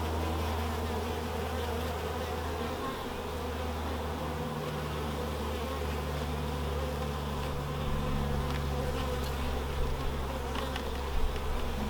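Honeybees drone in a thick, constant buzz during a beehive inspection, a close and continuous hum filling the whole stretch without any voices.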